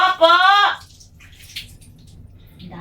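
A short high-pitched voice calls out, then water runs quietly and steadily in a small, echoey bathroom.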